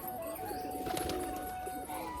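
Pigeons at a loft coo softly through a short stretch, a low murmuring call with a faint chirp mixed in, close by and steady against a quiet background.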